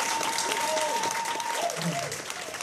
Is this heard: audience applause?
yes